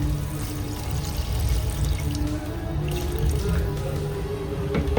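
Water is poured into a goat-head curry cooking village style, a steady, fairly loud rushing splash that runs unbroken throughout with no talking.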